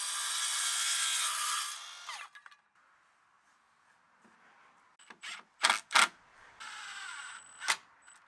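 A decking board used as log store cladding is cut to length. Around two seconds of rough, close sawing noise are followed by quieter handling, then several sharp knocks and clicks.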